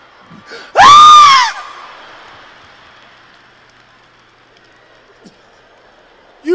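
A comedian on stage imitates a child's scream with his voice, one loud, piercing rising-and-falling wail lasting about a second, then quiet audience murmur.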